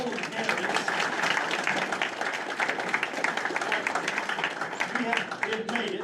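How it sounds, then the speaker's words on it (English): Audience applause for candidates at a veterans' auxiliary meet-the-candidate night, steady clapping filling the room for six seconds at an even, sustained level with scattered voices mixed in. "Round of applause for all of the candidates."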